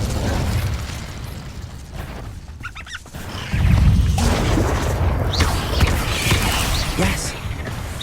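Incendio fire spell cast in the Hogwarts Legacy video game, a loud whooshing burst of flame that swells into a sustained roaring rumble, with a shouted voice and game effects mixed in.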